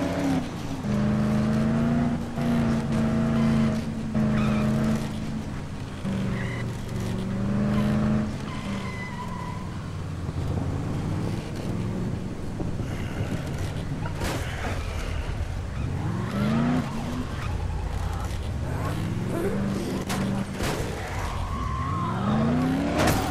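A car driven in the zombie game Dead Island, with a steady engine drone that rises and falls in pitch and tyres screeching through turns, loud and continuous for the whole stretch; no voices.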